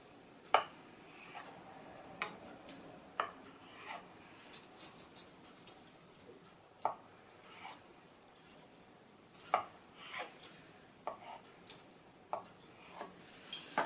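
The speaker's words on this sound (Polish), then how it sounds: "Jajko kroimy sobie na ćwiartki." A knife cuts a boiled egg into quarters for a cauliflower and egg salad, giving sparse, soft taps of the blade on a board, close and quiet, with faint kitchen clatter between the cuts.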